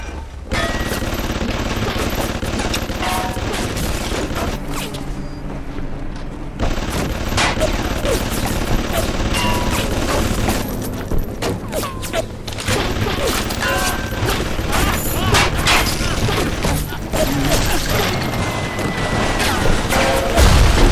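Turret gunfire in BioShock Remastered, dense bursts of rapid automatic shots and booms rattling on and off over about twenty seconds, with someone talking over the action.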